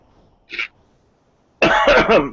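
A single short cough, then loud speech begins a second later.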